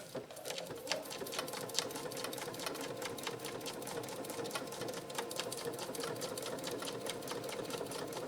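A Janome 3160 QDC sewing machine stitches a pattern on slippery vintage velvet, a fast even needle clatter running steadily throughout, close and moderately quiet, with no talking.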